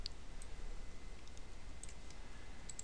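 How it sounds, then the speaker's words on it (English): Computer mouse clicks while pasting into Microsoft Word, several faint, sharp, isolated clicks spaced irregularly over a quiet background hum. "just right click and paste"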